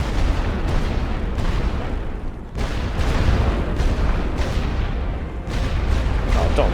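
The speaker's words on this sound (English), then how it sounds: "More bombardment." Continuous rumbling artillery bombardment on a Great War Western Front battlefield in a strategy game, loud dense booms and blasts rolling without pause, with one brief dip midway and no talk.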